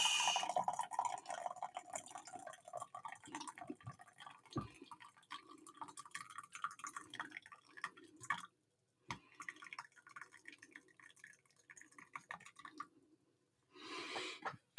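Coffee poured from a pot into a mug, a soft close trickle with drips and splashes, quiet and intermittent, with a brief pause partway and a short burst of pouring at the end.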